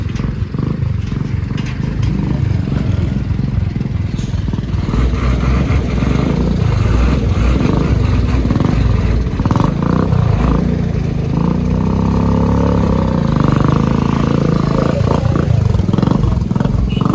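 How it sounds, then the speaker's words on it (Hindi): A loud engine runs continuously with a rough, throaty rumble, like a scooter idling and pulling away nearby, with shifting background noise. "ये स्कूटर की आवाज़ है।"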